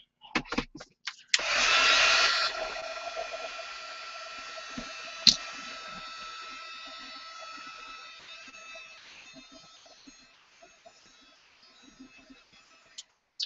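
A handheld drying tool blowing over wet paint on an art journal page, a steady close whir that starts abruptly after a few taps and slowly fades.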